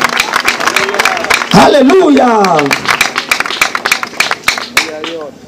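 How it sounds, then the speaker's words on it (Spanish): A church congregation applauds during a Spanish-language worship service, producing steady, dense clapping throughout while a preacher's voice calls out loudly over it. "Denle fuerte ese aplauso al Señor"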